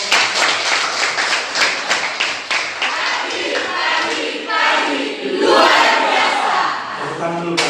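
Classroom audience of students applauding during a lesson discussion on pollution, a dense, loud wash of clapping and crowd noise sustained throughout with some voices mixed in.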